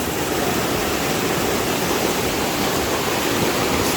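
Floodwater rushing steadily during heavy rain, a loud, unbroken roar of churning water that fills the whole stretch without pause, close by and with no voices over it.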